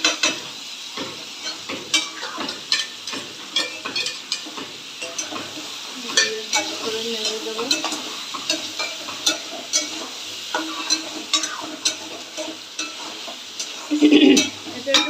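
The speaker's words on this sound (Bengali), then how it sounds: "এই যে জিরে আদা আর কাঁচা লঙ্কা শিলে বেটে রেখেছি দিয়ে দিচ্ছি" Ground cumin, ginger and green chili paste, stone-ground, sautéed with potatoes in a pan: continuous sizzle under frequent stirring and scraping clicks, with a brief louder clatter of cookware near the end.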